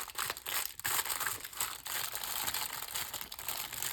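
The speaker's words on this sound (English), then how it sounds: "Sorry for all the crinkling." Craft packaging crinkles and rustles close by in irregular bursts, crisp plastic crackling with brief pauses, no voice present.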